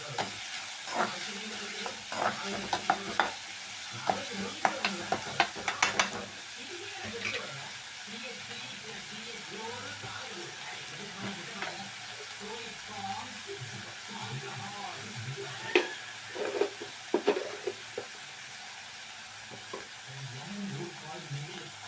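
Onions sauté in a frying pan for a Tamil-style egg fry, with a steady sizzle and intermittent scraping stir strokes, mostly alone and fairly quiet, with a few brief spoken words.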